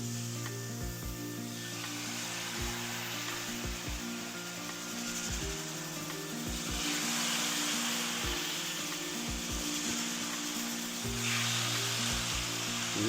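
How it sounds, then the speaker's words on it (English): Chicken breast sears in a pot with a steady, close sizzle, broken by a few soft knocks and scrapes, and no talking. "the breast is in the pot and it's now being seared"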